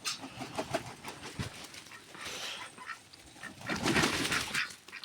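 A flock of ducks quacks in rough, overlapping bursts outdoors, fairly faint, with scattered calls from other fowl in the background.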